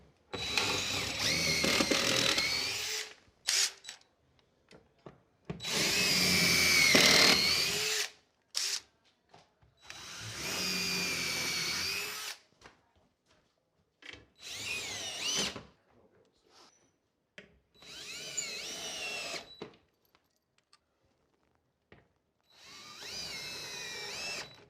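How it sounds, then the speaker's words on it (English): A power drill whines in repeated bursts of a few seconds each, close and loud, separated by short silences as several holes are drilled. "And now drill the rest of the holes."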